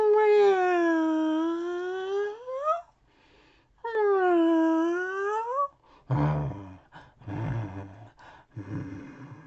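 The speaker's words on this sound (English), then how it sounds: "you can use this sound effect for the cat meowing." Two long, drawn-out cat meows with rising and falling pitch are followed by a few seconds of rustling, scuffling noise. No speech is heard.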